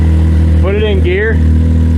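A 2019 Can-Am X3 UTV fitted with a P-Drive clutch idles loud and close in a steady low drone as it is put into low gear, while a voice speaks briefly over it.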